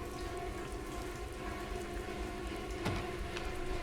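Steady, dense rain hisses through a scene in the 2015 horror video game The Park, with one brief sharp crack near the end and no speech.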